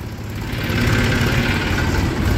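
Truck and tractor engines idle and rumble in a queue of sugarcane-hauling vehicles, a steady, continuous low drone with a broad mechanical hum, fairly loud and without talk.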